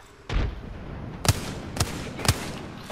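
Gunfire aimed at enemies up on a roof: four loud, close, sharp shots, the first followed by a pause and the last three arriving in a quicker, uneven rhythm, with no talking between them.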